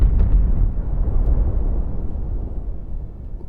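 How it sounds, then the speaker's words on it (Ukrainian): A Tsar Bomba detonates in the god-simulation game WorldBox, a loud, deep explosion that bursts at once and then rolls on as a low rumble, slowly fading over a few seconds with nothing else heard. "Цар бомба, куди ми закинемо цар бомбу?"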